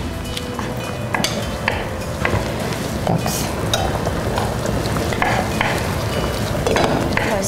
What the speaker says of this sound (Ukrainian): поки цибулька в нас смажиться